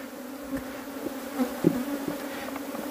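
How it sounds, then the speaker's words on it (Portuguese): Defensive honey bees swarm around hives at an apiary during honey harvest, a dense, continuous buzzing drone with several louder individual bees passing close by. "Abelha defensiva"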